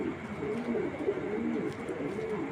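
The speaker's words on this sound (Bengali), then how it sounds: "তো এটা একটা মাদি কবুতর" A female racing pigeon, offspring of champion racing stock, coos softly in a low, repeated rhythm at close range, with no talk over it.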